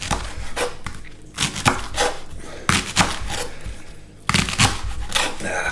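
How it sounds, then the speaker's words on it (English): A knife cuts fresh garden leeks into largish pieces on a board, making a quick run of close, crisp chops with brief pauses between groups of strokes. "I'm just going to chop our lovely little leeks up here."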